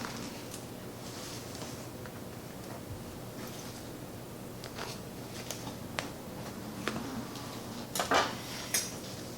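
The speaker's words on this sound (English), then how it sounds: "So, you just cut this in squares." Utensils cut cheesecake into squares on a plate, giving soft scattered scraping and light clinks of metal against the dish, with a sharper clatter near the end in a quiet kitchen.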